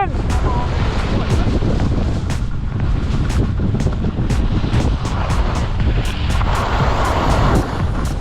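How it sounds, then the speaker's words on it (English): Strong wind buffets a microphone outdoors, producing a constant loud roar with rough gusty bursts and crackling pops throughout, with faint voices partly buried underneath. "Oh, the wind!"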